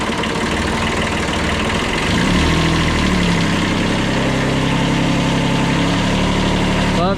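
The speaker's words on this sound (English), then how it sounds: "Turn the idle up a little bit." Old Japanese tractor engine idling steadily and loudly close up, a continuous rough diesel-like rumble that shifts slightly in pitch partway through as the idle is adjusted, with no talk.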